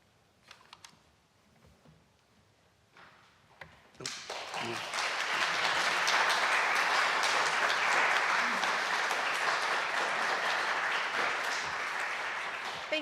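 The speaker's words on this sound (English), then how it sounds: "Can we give him another round of applause, please?" A lecture audience breaks into sustained applause after a talk, rising suddenly from a quiet room and holding dense and steady to the end.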